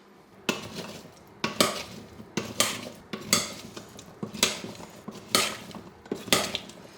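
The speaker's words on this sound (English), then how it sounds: "I'm going to stir this." A utensil stirs olive oil mixed with vegetables and chicken marinade in a bowl, making repeated scraping clinks in a steady rhythm of about seven strokes, close and fairly quiet.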